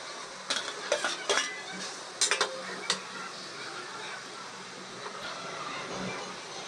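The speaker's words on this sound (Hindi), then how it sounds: "तो अब डाल देते हैं मटर और पनीर।" Spoon stirring peas and paneer into a cooked masala in a pan, with a few scraping clinks of utensil against metal in the first three seconds over a soft steady sizzle, then quieter frying.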